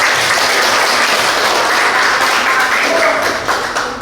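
Classroom children clap together for a classmate's answer, a dense burst of applause lasting a few seconds, close and fairly loud, tapering slightly at the end.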